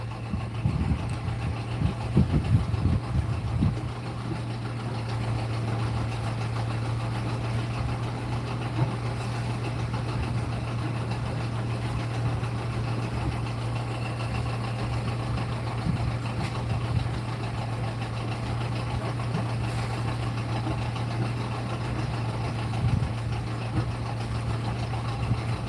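A sailboat's engine idles and motors slowly over its anchor at an anchorage in Fiji, a steady low drone running close and unbroken throughout, with a few irregular knocks near the start.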